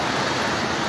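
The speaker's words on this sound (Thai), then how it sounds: "น้ำไหลขาดแล้ว" Floodwater rushes through a flooded village near Nasaithong, Vientiane, a brief, steady broadband roar of flowing water with no talk.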